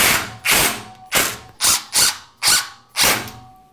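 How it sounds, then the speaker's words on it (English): Screws driven with a power driver into the stud of a pocket door frame kit: six close, loud bursts of whirring and ratcheting, each about half a second, spaced in a steady rhythm with short gaps. "So now we can attach screws."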